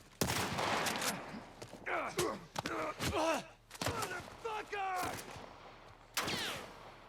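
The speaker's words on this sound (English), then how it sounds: "Who's shooting at me?" Gunfire rings out during a combat sequence in The Last of Us Part I video game. Several bursts of shots are mixed with grunts, gasps and character voices, and they land in irregular clusters at moderate loudness.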